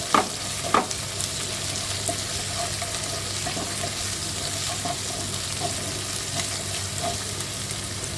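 Chopped onions frying in a pan for masala mung bean and fenugreek curry: a steady, even sizzle with a continuous hiss and a few sharp stirring clacks near the start, close and fairly quiet.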